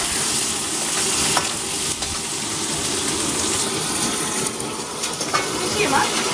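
Onions fry in a pan with a steady, loud sizzle that runs without a break, joined by faint stirring scrapes. There is no talk.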